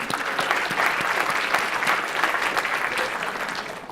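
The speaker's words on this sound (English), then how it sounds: "Give yourselves a round of applause for participating." Steady applause from an audience at a motivational speech, many hands clapping in a dense, even wash that holds for the whole stretch without talk.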